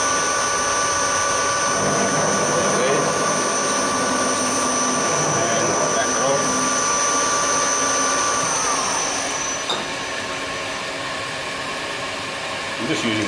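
An aluminium bracket is machined on a Hafco HM 54GV milling machine with kerosene as cutting fluid, giving a loud, steady whirring hum with a high whine, fairly close and continuous throughout.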